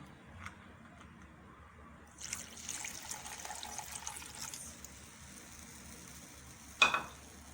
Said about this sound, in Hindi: इसमें ½ कप पानी डाल लेंगे।